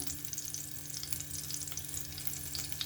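Grated ginger sizzles in a spoonful of hot ghee for a ragi flour vegetable soup, a steady soft frying hiss with light crackles, fairly quiet and continuous with no voices.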